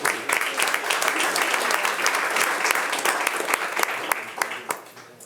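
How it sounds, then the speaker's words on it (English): An audience at a school board meeting breaks into sustained applause, a dense, even patter of many hands clapping that lasts several seconds and tapers off slightly at the end. "Let's give her a round of applause."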